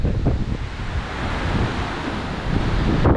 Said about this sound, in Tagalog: Yung panahon ngayon guys, yan, grabe yung hangin.